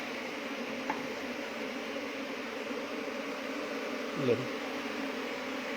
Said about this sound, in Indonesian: Ini lebah pekerja.